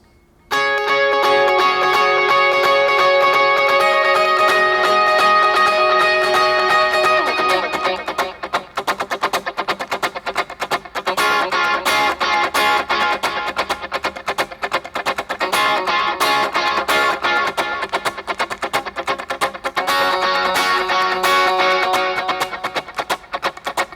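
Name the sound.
electric guitar strumming with delay effect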